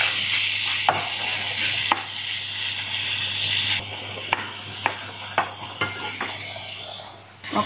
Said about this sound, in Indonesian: Ini gue mau tumis ayamnya dulu ya guys